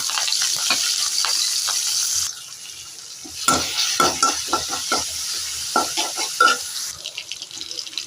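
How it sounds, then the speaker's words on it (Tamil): Mustard seeds, onion, green chilli and curry leaves sizzle in hot oil, a loud bright hiss at first, then a quieter stretch with clinking stirs and scrapes before the frying swells again. "எண்ணெய் காஞ்சிட்டு கடுகு போட்டுக்கணும் கடுகு வெங்காயம் பச்சை மிளகாய்"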